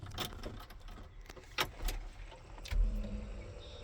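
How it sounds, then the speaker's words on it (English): Ignition key of a Class A truck turned to the on position inside the cab, with a brief metallic jingle of keys and a few clicks, followed by a low rising hum as the electrical system comes on. "I'm going to put my key on the on position."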